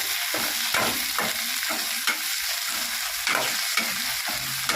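Onions sauté in a pan with fresh mint and coriander leaves, hissing steadily while a spatula scrapes and stirs in repeated quick strokes, close and prominent with no speech.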